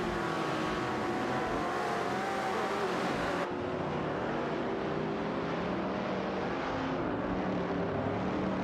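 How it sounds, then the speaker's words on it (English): Race car engines roar steadily in an AI-driven racing video game, a Ford Mustang Mach 1 against a Dodge Charger Hemi, layered revving whine with a sharp drop in brightness midway, no voices. "Tom Zhu's Ford Mustang Mach 171 is facing off against Drin 1 and Nikem Bakum's Dodge Charger Hemi 69."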